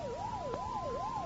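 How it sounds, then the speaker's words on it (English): A police car siren wails in a smooth rising and falling sweep as a radio drama effect, loud and steady as if drawing near, with no voices. "The police car, I should imagine. Seems to be coming this way."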